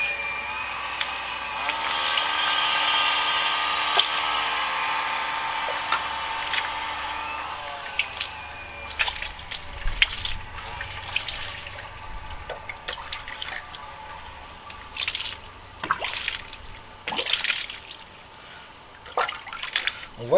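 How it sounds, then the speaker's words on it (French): Water sprays and splashes while rinsing wheel rim cleaner off car wheels, a close hissing rush that tapers into irregular splatters, drips and bursts of spray, with faint voices at times. "On va rincer."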